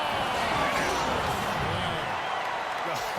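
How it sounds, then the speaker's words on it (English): In NBA 2K16, an arena crowd roars after a slam dunk in an all-star game, a loud, steady wall of cheering that holds throughout with voices mixed in. "the crowd goes crazy after seeing that finish."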